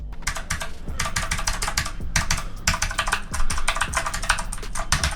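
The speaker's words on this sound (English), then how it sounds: "it's a mechanical blue switch thing, so it sounds like this" Rapid, continuous clicky typing on a mechanical keyboard with blue switches, crisp and close, with dense overlapping keystrokes and a few brief pauses.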